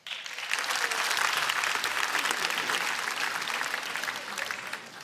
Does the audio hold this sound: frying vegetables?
no